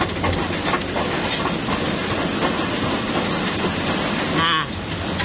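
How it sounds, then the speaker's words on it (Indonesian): Unit 5 of an offset printing press, still unrepaired, grinds and rattles continuously at close range, a harsh, rhythmic clattering din that stays loud through to the end. "Unit 5 yang belum dibenerin suaranya."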